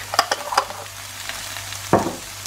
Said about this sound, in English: I'm just going to give that a quick mix.